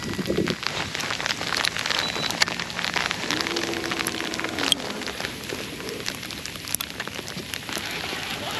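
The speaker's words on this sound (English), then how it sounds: "For those of you who didn't believe me earlier that it was hailing, you can definitely hear it now." Hail falling around a boat on a fishing trip makes a steady, dense, soft patter that continues without a break, with faint bird calls in the background.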